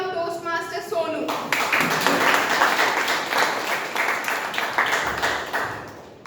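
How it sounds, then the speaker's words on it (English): An audience at a Toastmasters club meeting breaks into brisk, sustained clapping to welcome a speaker, following a brief spoken introduction, then tapers off at the end. "Please, with a huge round of applause, welcome Toastmaster Sonu."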